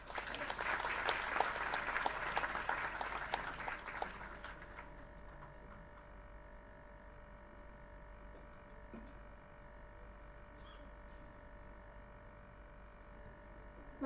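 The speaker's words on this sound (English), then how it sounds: "Let's have an applause loudly to feel that you all are happy." Audience applause at the NCTE 28th Foundation Day ceremony in 2022: a dense burst of clapping for about four seconds that then stops abruptly, leaving a quiet hall with a low steady hum.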